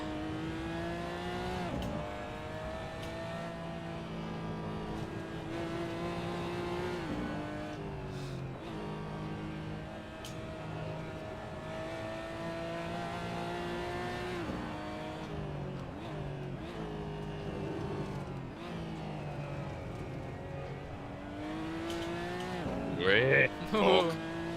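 A Lamborghini racing around a track in a GT racing video game, its engine droning steadily with shifting pitch through gear changes, briefly rattling over curbs near the end, with people talking over it.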